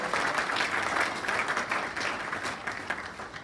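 An awards evening audience breaks into sustained applause, dense clapping that swells and dips slightly and tapers near the end.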